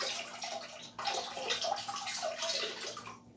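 Pottery glaze poured over a piece, a steady close splashing and trickling of liquid with a brief pause near the start before the pour resumes and runs on.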